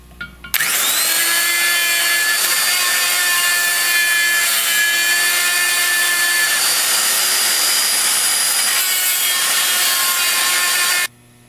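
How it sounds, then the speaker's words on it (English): Sanding roll on a long mandrel spins inside a hole in an AMC V8 timing cover, giving a loud, steady high-pitched whine with grinding rasp that runs unbroken for about ten seconds and then stops abruptly. "Decided to go in with a longer mandrel and sandpaper roll."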